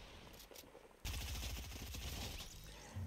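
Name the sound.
assault rifle gunfire in the video game Fortnite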